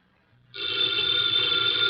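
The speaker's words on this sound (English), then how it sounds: "the ringing of that phone bell brings you mystery, adventure" A telephone bell on an old-time radio detective drama rings in one steady, loud, continuous burst that starts abruptly and sustains to the end, with no voices.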